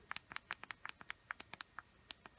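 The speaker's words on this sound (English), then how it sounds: "Listen to these keys." Rapid typing on the physical keyboard of a BlackBerry Classic phone, a quick irregular run of small crisp plastic clicks, close and quiet with no talking.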